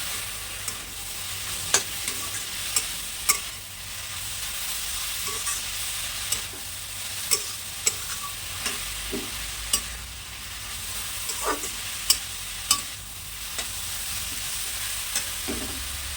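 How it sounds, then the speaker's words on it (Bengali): Raisins and cashews frying in a pan for carrot halwa, a steady sizzle broken by sharp scraping clicks of a stirring spoon at irregular intervals, close and with no talk. "ভাজার সময় আমি কিশমিশ কাজে দুটোই দিয়ে দেবো"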